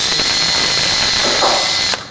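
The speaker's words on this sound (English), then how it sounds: "I am just going to drill a hole through this" A small power drill with a 1/16 inch bit boring through a wooden birdhouse ornament, a steady high-pitched whir running for about two seconds before it winds down, loud and close.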